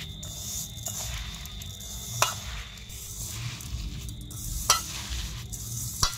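Grated coconut and sugar stirred in a wok over the gas flame make a soft, low sizzling rustle, with three sharp spatula knocks against the pan spread across the stretch and no talking.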